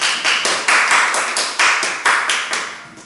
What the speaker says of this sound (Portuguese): Vamos aplaudir o Senhor